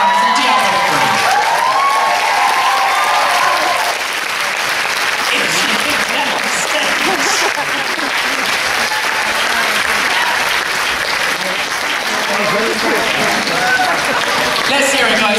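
Dense, enthusiastic applause fills the hall at a Manchester Comic Con cosplay masquerade, with cheers and shouts over the clapping and a brief voice over a loudspeaker at the start.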